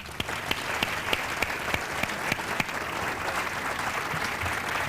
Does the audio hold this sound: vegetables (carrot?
no